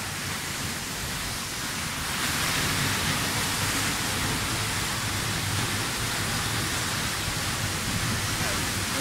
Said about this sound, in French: on va retourner sous la cascade